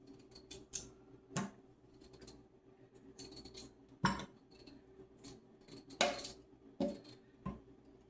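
Potatoes are peeled for mashed potatoes, giving quiet, scattered scraping strokes and light clicks, close and soft with pauses between.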